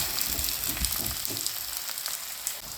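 Herbal leaves such as thuthuvalai and thulasi frying in a pan, with a steady close sizzle and a few soft scrapes and crackles as the leaves are flipped over.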